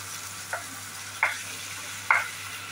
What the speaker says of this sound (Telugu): వేసుకొని కాసేపు ఫ్రై చేయాలి, పచ్చివాసన పోయేదాకా.